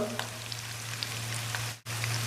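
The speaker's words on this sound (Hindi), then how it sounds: "अब मैं इसको मज़ीद 3 से 4 मिनट के लिए अच्छी तरह इसकी बुनाई कर लूँगा" Mutton karahi with ground coriander, garam masala and black pepper fries over low heat, a continuous close sizzle with a steady low hum beneath and a brief dropout near the end.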